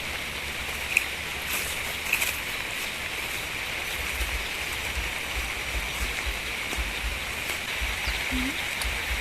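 Rain falls steadily outdoors during mushroom foraging, a soft even hiss of drops on leaves and ground throughout, with a few faint distant bird chirps and no talk.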